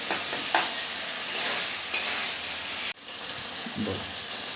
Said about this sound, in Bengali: যতক্ষণ না মশলা থেকে তেলটা বেরিয়ে আসছে ততক্ষণ অবধি মশলাটাকে কষাতে হবে